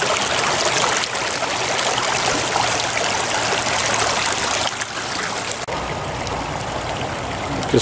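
Clear Creek water rushes steadily through a homemade 2017 sluice lined with gold hog matting, a loud, close, continuous hiss and gurgle of flowing stream water.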